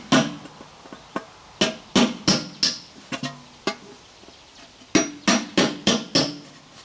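A punch is hammered through the thin metal of a maple sap bucket, giving about sixteen sharp, ringing strikes in quick bursts with short pauses between groups, close and fairly loud.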